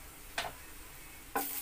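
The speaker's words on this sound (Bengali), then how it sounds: "সেই বড়ি এর মধ্যে দিয়ে ভেজে নিচ্ছি" Homemade lentil dumplings (bori) fry quietly in hot white oil, a faint steady sizzle broken by two short scraping stirs.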